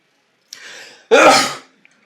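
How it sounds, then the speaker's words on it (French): A single loud, unrestrained human sneeze: a short breathy intake builds for about half a second, then a forceful burst erupts and fades quickly, with no talk around it. "je retiens pas mes éternuements, donc ça fait des gros éternuements"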